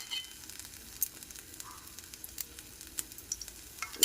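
Coriander chutney ingredients fry in a little oil in a pan, giving a faint, steady sizzle scattered with small pops and crackles.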